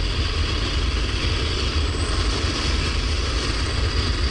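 An engine firing in the sci-fi horror video game Dead Space, heard as a steady, dense mechanical drone with heavy low rumble that holds even and loud for several seconds, with no voices over it.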